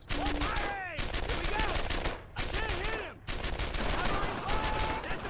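Rapid bursts of gunfire from the World War II squad shooter Brothers in Arms: Earned in Blood rattle in quick succession, with game voices shouting between and over the volleys.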